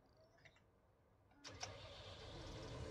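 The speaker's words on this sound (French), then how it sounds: "on allume le moteur." A car engine, tuned to about 695 horsepower, starts after a quiet moment. It catches with a brief burst, then settles into a steady, rising idle rumble.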